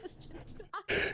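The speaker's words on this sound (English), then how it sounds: "I was clearing my throat" A single short throat clear comes close and fairly loud at the end, preceded by a brief vocal sound and quiet murmuring talk.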